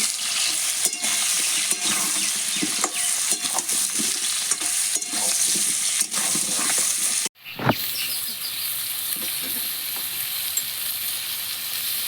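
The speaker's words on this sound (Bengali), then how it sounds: "আলুটা ভালো করে ভেজে নেবো" Cut potatoes frying in a pan after half-fried onions, with a continuous close sizzle broken by repeated scraping stirs and a brief dropout partway through; nobody speaks.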